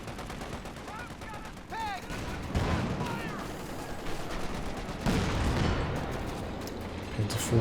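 Heavy .50 cal machine gun fire in Company of Heroes 2, rapid bursts among other battlefield gunfire and explosions, moderately distant, with a voice talking over the action.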